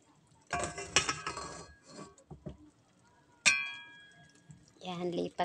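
Cooked pork humba with gizzard being moved onto a serving plate, with quiet clanks and clinks of a utensil against cookware and a sharp metallic ding partway through, between pauses.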